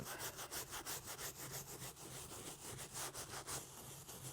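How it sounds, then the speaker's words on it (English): A brush scrubs foam cleaner on the midsole of a Jordan 1 sneaker in quick, rhythmic back-and-forth strokes, close and fairly quiet, with no talk. "take the foam, apply directly on, and then start scrubbing"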